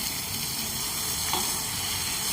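Paneer pieces stirred into a sizzling dhaba-style masala in a pan, a loud, steady, close frying hiss with a faint stirring scrape partway through.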